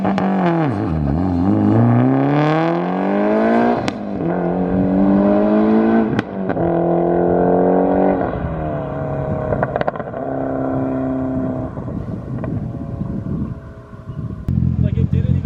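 A Mitsubishi Evo 6.5 TME makes a standing-start launch, its engine revving loudly and bogging, then rising through several sharp gear changes close by, with the revs falling away toward the end.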